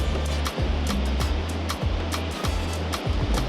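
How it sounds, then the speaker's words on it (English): Ocean waves crash on a windy beach under a dark sky, with strong wind buffeting the microphone in regular low thumps over a constant broad roar of surf. "The waves are coming in hot and loud."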